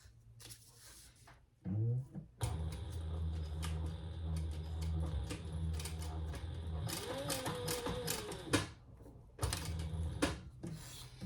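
A sewing machine runs steadily, stitching across the front of a Bagstock Oriana bowler bag, a loud continuous mechanical whir for several seconds with brief handling and fabric rustles before and after.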